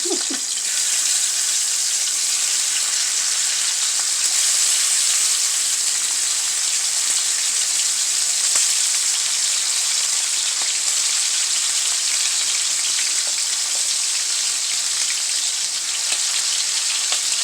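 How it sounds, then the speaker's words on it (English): Chicken wings fry in hot oil in a pot, giving a loud continuous sizzle with scattered pops and crackles that hold steady throughout. "we're going to get started by adding our wings into the pot. Stand back because it will pop."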